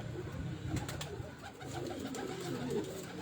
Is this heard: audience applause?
no